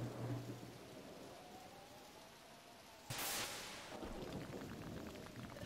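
Steady storm rain hisses in Pokemon Mystery Dungeon Explorers of Sky, faint and constant, with one brief brighter burst of thunder partway through.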